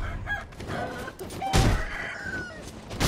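Chicken clucking and crowing in the video game Sekiro, loud and close, with bursts of game sound effects around it.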